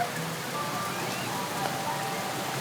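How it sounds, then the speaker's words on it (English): A Florida rain shower makes a steady, dense patter of raindrops on surfaces, an even hiss with no break across the short stretch. "love a good Florida rain shower."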